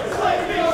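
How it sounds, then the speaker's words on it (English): Wrestling crowd at a Rey Mysterio versus Ricochet match roaring and cheering loudly in a brief, dense burst of massed voices. "The crowd comes alive"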